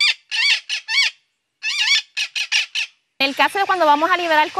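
Puerto Rican parrots squawk loudly in rapid bursts of harsh, nasal calls. One call ends in a long, raspy screech.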